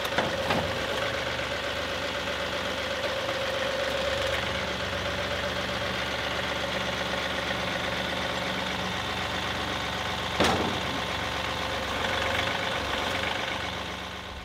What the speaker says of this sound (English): I just moved the tractor